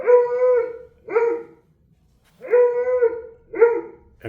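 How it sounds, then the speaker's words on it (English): A recorded dog barks and howls through a home theater speaker system, two pairs of drawn-out barks, each long bark followed by a shorter one, loud and clear with silence between the pairs. "and play the dog barking"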